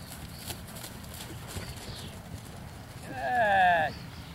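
A horse canters on a cross-country riding course, its hoofbeats muffled and steady. A high, wavering call rises briefly near the end, and a voice talks throughout.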